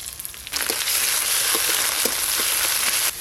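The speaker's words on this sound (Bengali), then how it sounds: "আদা রসুন একটু ভালো করে ভাজা হতে থাক" Ginger garlic paste sizzles in hot oil with deep red fried onions, a loud, steady frying hiss that swells suddenly and continues close by, with faint stirring knocks throughout.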